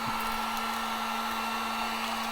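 Cheap Harbor Freight heat gun blows steadily on a tumbler being sublimated, a loud continuous whooshing hum with a fixed motor whine, no voices.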